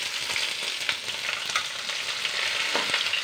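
Two large finely chopped onions frying in oil in a pan for a curry, a steady close hiss of sizzling with light stirring scrapes throughout, no voices.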